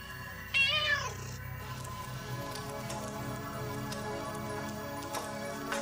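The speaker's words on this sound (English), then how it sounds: "Here's your cat, Max." A cartoon cat gives a single loud rising-and-falling meow near the start, followed by steady background music and ambience with no further calls.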